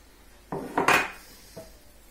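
Sugar poured into beaten whole eggs in a bowl for brioche dough: a few brief clinks and a scraping rattle of a spoon against the bowl in under two seconds, close and moderately loud, with no talk.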